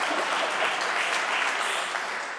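Audience applause at the 31st Droits et Libertés award ceremony, steady dense clapping from a crowd filling the whole stretch, fading slightly at the end.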